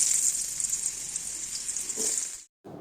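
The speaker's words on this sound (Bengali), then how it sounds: "এই আলুর মধ্যেই কুমড়োগুলো ভেজে নেব।" Pumpkin pieces frying in oil in a pan already used for potatoes, a loud, steady close sizzle that cuts off abruptly near the end before briefly resuming.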